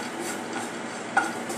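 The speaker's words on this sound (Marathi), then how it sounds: "आता यामध्ये दाबेली मसाला आणि काश्मीरी लाल मिर्च घालूया। थोडीशी घालायची आहे आणि मिक्स करून घेऊया" Dabeli masala and Kashmiri red chilli being stirred in a pan for Kutchi dabeli, a soft steady scraping with a faint sizzle throughout and one brief clink near the end.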